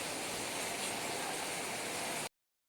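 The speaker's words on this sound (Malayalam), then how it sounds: "മഴേൻ്റെ ഒച്ച കേൾക്കാനൊരു രസം തന്നെ അല്ലേ" Steady, dense hiss of heavy rain pouring down, loud and unbroken for about two seconds before cutting off abruptly into silence.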